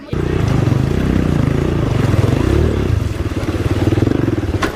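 Motorcycle engines putter and rumble nearby in a steady rhythmic chug, with some rattling as they ride along.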